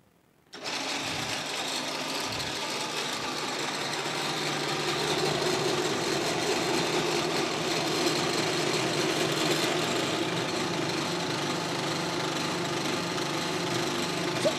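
A pellet making machine starts up and runs as a steady, loud mechanical drone with a high buzzing whine, holding constant for over ten seconds with no talk.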